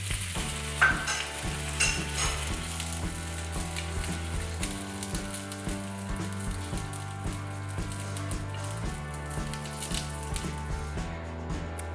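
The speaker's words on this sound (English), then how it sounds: "We're gonna fry it for a couple more seconds, and we are going to slowly turn the roll so each and every side can be fried to a nice crispy brown." Dim sum roll frying in hot oil, turned slowly to crisp on every side: a steady continuous sizzle with faint stirring scrapes, close and moderately loud, no voices.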